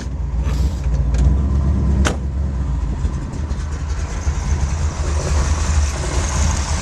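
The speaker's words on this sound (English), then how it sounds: "I'm going to start this bad boy up, let you hear it. It's got a nice Flowmaster exhaust system." A 1965 Dodge Coronet 500 with a 451 cubic inch Wedge V8 and Flowmaster exhaust rumbles steadily close by, giving a low, continuous growl with no voices.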